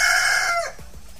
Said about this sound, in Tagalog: Yung manok namin nagpapakatay na. Ang ingay niya.